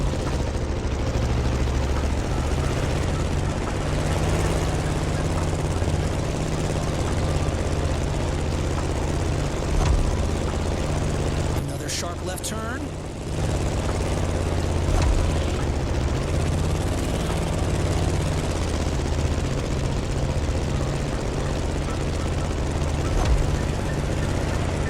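A steady droning propeller plane engine roars continuously during a sharp turn in The Crew Motorfest racing game, loud and sustained with a brief dip midway.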